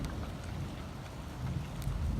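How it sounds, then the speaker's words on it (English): Steady rain pattering with a low rumble of thunder rolling beneath it, swelling slightly toward the end; no voices. "more thunder."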